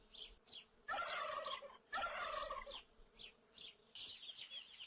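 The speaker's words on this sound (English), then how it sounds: "This is a turkey." Farm turkey gobbling in repeated loud bursts, two long rattling gobbles in the middle framed by shorter calls and softer clucks, with no voices over it.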